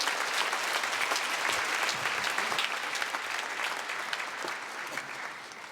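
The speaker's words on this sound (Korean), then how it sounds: "감사를 박수로 환영하겠습니다." Steady, dense applause from a church congregation welcoming a pastor at a special dawn revival service, sustained throughout and slowly tapering.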